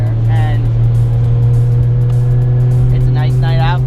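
Toyota Supra driven with the roof off on an empty freeway at night, its engine droning loud and steady with wind noise, while someone talks over it.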